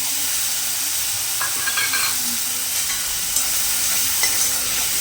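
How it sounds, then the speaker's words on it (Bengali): Spice paste sizzles steadily in hot oil with five-spice seeds and bay leaves as it is fried for Bengali potol dorma, with occasional stirring scrapes across the pan throughout. "ভালো করে মশলাটা ভেজে নিতে হবে যাতে কাঁচা গন্ধটা বের হয়ে যায়"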